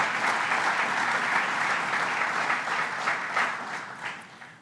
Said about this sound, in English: Let's give a round of applause to Senator Flanagan and to Assemblyman Engelbright.